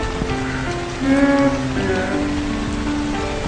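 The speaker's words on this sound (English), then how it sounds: "Taking a walk through the rain." Steady rain falls on surfaces during a walk through a village, a dense continuous patter with louder drops and faint tonal sounds in the background.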